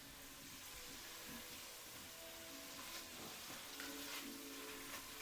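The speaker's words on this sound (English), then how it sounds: "we're just cooking our sausage until brown, stirring frequently for 7 to 10 minutes" Plant-based sausage crumbles brown in a frying pan, giving a soft, steady sizzle with faint occasional scraping from stirring, ending in a brief clink.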